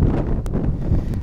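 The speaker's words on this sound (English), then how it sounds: "The wind's driving me slightly potty." Gusty wind buffets the microphone outdoors in a field during metal detecting, a steady low rumbling roar with brief louder bursts throughout, no voice present.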